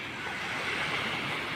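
Sea waves washing onto the shore at Punta Harina Beach in Ilihan, Batangas City; a continuous, fairly loud broadband surf wash with some wind noise and no talking.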